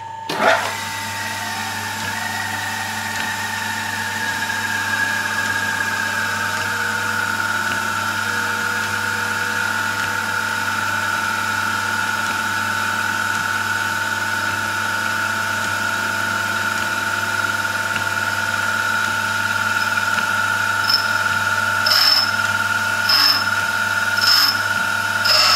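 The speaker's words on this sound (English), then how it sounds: "we'll turn the grinder on and gradually introduce the tool to the wheel" Bench grinder running with a countersink tool pressed to the wheel, a steady high whine with a sustained grinding tone, ending in a few brief sharp ticks of contact.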